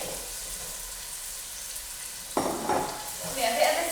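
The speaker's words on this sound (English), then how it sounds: "Give it a bit of a stir, break it all apart." Potatoes and chickpeas are stirred in a cooking pot over a low sizzle, with a sharp scraping burst partway through followed by louder rustling stirs.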